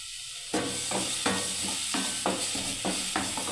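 Ginger and green chilli paste hits a pan of frying spices with a sudden loud sizzle, then keeps hissing steadily while a spoon scrapes and stirs in a regular rhythm of close, repeated strokes.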